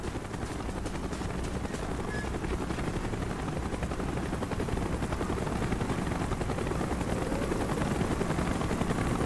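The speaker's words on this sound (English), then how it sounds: "Chopper's inbound." Helicopter rotors in Call of Duty Black Ops throb as a dense, continuous roar, loud and close throughout, with no break.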